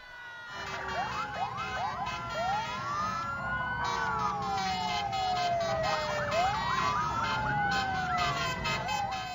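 Several emergency sirens wail at once at an Indonesian Independence Day celebration, rising and falling in overlapping sweeps, loud and continuous throughout.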